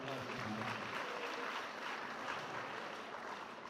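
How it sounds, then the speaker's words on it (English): Steady crowd applause fills a college of education annual congregation, a dense wash of clapping that holds evenly throughout with a faint voice underneath. "With a round of applause,"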